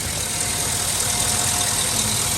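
Chevy truck engine idling after an injector circuit repair, a steady close mid-pitched hum with continuous mechanical rumble and no speech.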